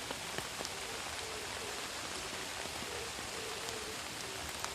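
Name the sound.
heavy rain falling on a hillside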